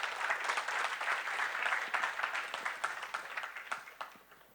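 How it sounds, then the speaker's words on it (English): An audience at a community tech conference welcome session applauding, a dense wash of many hands clapping that stays steady and then tapers off toward the end, moderately distant. "Please give them a great round of applause."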